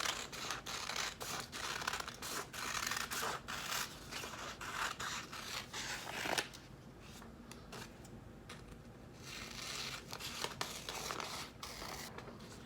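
Scissors snip through paper to cut out a shield shape for a coat of arms craft, giving a close, steady run of crisp cuts and rustles with a brief lull midway and no talking.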